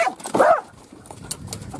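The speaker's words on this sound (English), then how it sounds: "I got my dogs with me today." Dogs bark and yip close by at a horse-show farm, one loud sharp bark followed by softer whimpering and scattered yips, with no talking.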